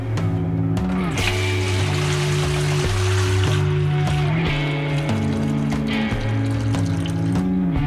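Strawberry ale poured from a bottle into a glass, a continuous close gurgling and splashing stream of liquid with a faint fizzy hiss, heard alone over backing music.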